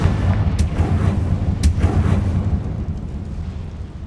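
A Confringo blasting spell in Hogwarts Legacy goes off as a loud, close explosion with a couple of sharp cracks, then a rumbling boom that slowly fades.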